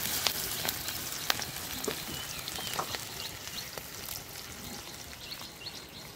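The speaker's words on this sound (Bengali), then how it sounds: "তেলটাও আমার গরম হয়ে গেছে, আমি তেলের মধ্যে এবার ছেড়ে দেবো" Okra frying in hot oil, a steady close sizzle with scattered sharp pops and crackles running throughout, loud and unbroken with no talking.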